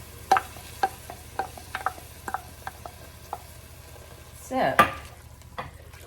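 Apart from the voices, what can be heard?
stirring milk into sizzling vegetarian bolognese sauce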